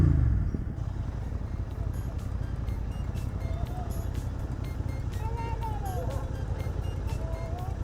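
A Royal Enfield Continental GT 650 motorcycle engine idles with a deep, steady exhaust rumble close by, while voices talk faintly in the background.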